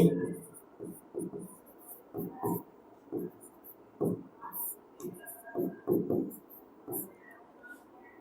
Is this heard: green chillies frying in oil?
no